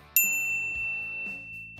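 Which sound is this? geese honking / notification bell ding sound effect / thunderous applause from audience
notification bell ding sound effect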